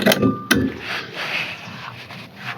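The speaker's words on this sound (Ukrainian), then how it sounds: "Вмикаємо масу." A YuMZ tractor's battery master switch is thrown on with two sharp mechanical clunks close together near the start, followed by quiet background noise.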